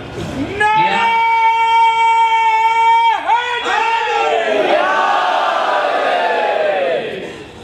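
A large majlis crowd shouts a religious slogan (nara) in unison, loud and sustained voices rising together, dipping briefly, then swelling into a broader roar of many people.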